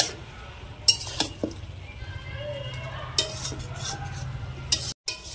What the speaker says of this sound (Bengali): তারপরে উপর থেকে দিয়ে দিচ্ছি চিংড়ি মাছগুলো, ভাজা চিংড়ি মাছ।